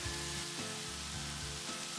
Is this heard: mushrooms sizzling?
yes